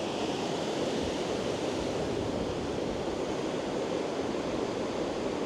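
Waves break on the beach at Perranporth in a constant, even rush of surf that holds steady throughout, with no voices or other sounds.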